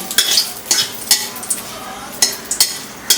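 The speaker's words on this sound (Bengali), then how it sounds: "এখন শুকনো লঙ্কাটা ভাজা হয়ে গেল তেজপাতাটা" Dry red chillies and a bay leaf fry in hot oil in a pan for a Bengali rui fish curry, a steady close sizzle broken by regular scraping strokes of a stirring spoon.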